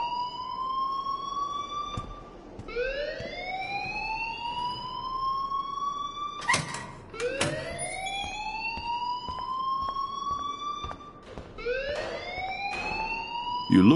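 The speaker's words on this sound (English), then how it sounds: "please turn off that alarm since that's your job" An alarm in a video game wails in repeated rising sweeps, each a few seconds long, loud and steady, with sharp clicks and knocks breaking in between.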